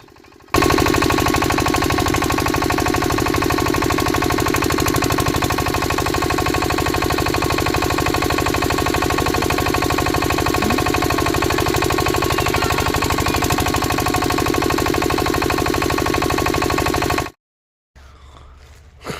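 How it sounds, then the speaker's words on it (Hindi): A Kirloskar AK65 7.5 hp farm diesel engine runs at steady speed, a loud, close, rapid thumping chug that holds evenly for about seventeen seconds before cutting off abruptly, with no talking. "यदि आप नया इंजन लेना चाहते हैं किसान मित्रों, तो किर्लोस्कर कंपनी की जो AK65 मॉडल नंबर है"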